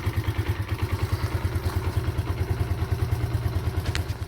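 A Suzuki GN125 motorcycle engine runs close by with a steady low, pulsing idle thump, the throttle flicked lightly in short blips while it warms up, with faint mechanical clatter over the beat.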